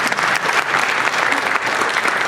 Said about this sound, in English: A nice big round of applause for both of these great people.